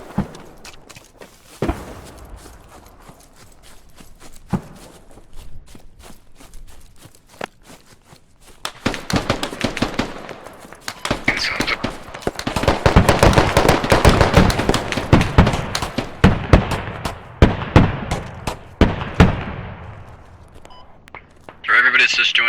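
Gunfire in the Squad video game on the Narva map, with bursts of sharp shots and impacts, some near and some distant, building into dense overlapping fire in the middle and tapering near the end, with occasional footsteps.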